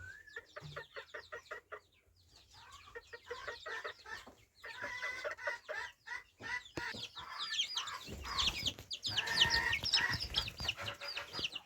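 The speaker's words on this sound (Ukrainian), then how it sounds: "Це карликова курочка." A bantam hen with a leg injury clucks in a rapid run of short, close notes, then a louder, busier stretch of clucking and rustling follows, with no talking.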